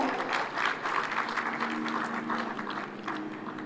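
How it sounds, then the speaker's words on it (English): A conference audience at a devolution gathering in Homa Bay gives a round of applause as a moderator takes the stage, a steady moderate patter of many hands clapping at some distance. "please, a round of applause for moderator, Ms. Jackie Mbogo"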